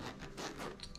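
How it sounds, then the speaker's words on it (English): Zipper on the pocket of a caramel Telfar bag, heard as a close, continuous scratchy rasp lasting about a second, with a few brighter clicks near the end. "You got your zipper right here."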